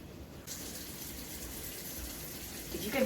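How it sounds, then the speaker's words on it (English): Water runs steadily from a tap into masa being mixed for tamales. The soft, continuous gush is fairly faint and swells slightly near the end. "So I'll go ahead and add my water now."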